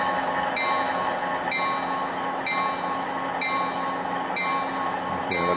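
ESU LokSound decoder sound playing on an Athearn SD70ACe model diesel locomotive, a steady droning engine rumble from a small speaker with a regular thumping and hissing pulse repeating about once a second, close and loud with no talk.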